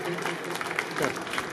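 An audience applauds to welcome a district collector at the opening of a district-level sports competition, a steady wash of clapping from a crowd lasting the whole moment.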